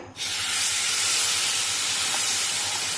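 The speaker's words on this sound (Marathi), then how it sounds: "आता यामध्ये हे गरम केलेलं दूध टाकूया" A loud, sustained sizzling hiss as hot milk is poured onto semolina roasted to a pink hue in a pan for mango sheera, starting abruptly and holding steady at close range.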